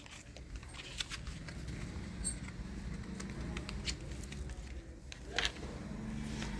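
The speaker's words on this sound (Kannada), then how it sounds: "ಮಳೆ ಬರ್ತಿದೆ ಗೈಸ್." Steady rain patters down around a seated group at home, a soft continuous wash of drops with occasional faint clicks and brief sharper spatters, no voices in this stretch.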